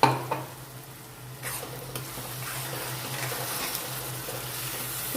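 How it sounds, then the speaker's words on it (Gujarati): A soft sizzle as raw spinach puree is stirred into a pan for khichdi, with a few scraping stirs, steady and close, no voices. "હવે પાલકની પ્યુરી એડ કરીશું."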